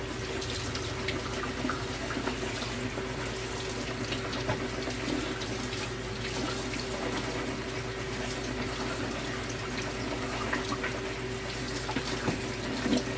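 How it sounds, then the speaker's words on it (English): Mushrooms rinsed under a running kitchen tap, a steady, fairly loud stream of water splashing over them and into the sink with slight shifts as they are moved around; no talking. "we're just going to run some water over them and switch them around"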